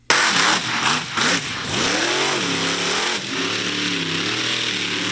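Monster truck engines rev loudly at a county fall fair, with a roaring burst that rises and falls in pitch before settling into a sustained, steady engine drone, heard alone with no talk.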